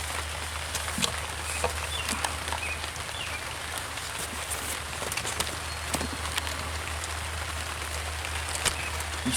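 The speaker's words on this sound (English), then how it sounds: "It's been raining, started raining." Steady rain patters on a tent at a campsite, a soft continuous hiss with scattered small drop ticks, fairly faint and close, with no talking.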